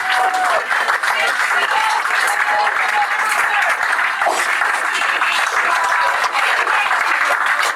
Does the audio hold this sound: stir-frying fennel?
no